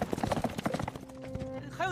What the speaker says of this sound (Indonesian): atas kebaikan Yilong, klan Kadal memberikan salah satu kuda mereka untuk membantu Yilong dan Chuhun sampai di kota Phoenix lebih cepat.